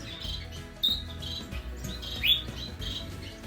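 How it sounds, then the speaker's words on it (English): Several birds chirp and tweet in an indoor bird room, with short bright calls repeating over a low steady background hum. "Hanging out here with the birds."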